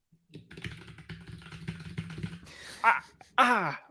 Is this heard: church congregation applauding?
no